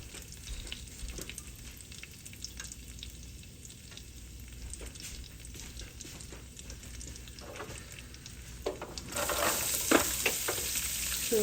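Onion frying in a casserole pot, a soft continuous sizzle with intermittent stirring scrapes, swelling louder and brighter toward the end as it crackles more strongly.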